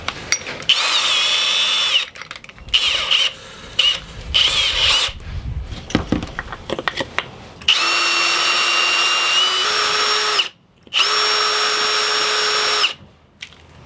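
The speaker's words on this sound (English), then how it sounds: "what we're gonna do is drill this way" A power drill bores a hole through a speed feed trimmer head, with several close, loud whining bursts of the motor, short and stop-start at first, then longer sustained runs separated by brief pauses.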